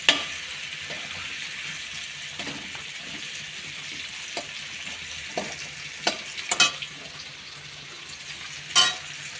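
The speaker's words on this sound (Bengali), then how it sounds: "এই যে আলু ভাজা হচ্ছে।" Potatoes fry in a pan for a chicken ghole, a steady soft sizzle with occasional scraping stirs and small clinks, heard close up with no talking.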